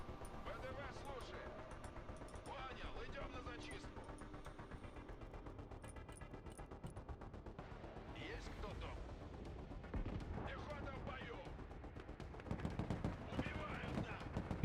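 Mortar and artillery fire in the Broken Arrow war video game, repeated booming impacts and gunfire bursts rolling on under a voice, growing denser toward the end.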